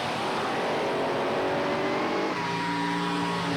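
Drag racing cars from 1987 bracket racing roar in a sustained, loud engine drone, with a pitch shift partway through as the engines rev and change gear, no talk over it.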